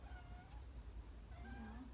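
A cat stuck on a cat tree meows twice, faint and plaintive, with a steady low rumble of room noise underneath and no talk.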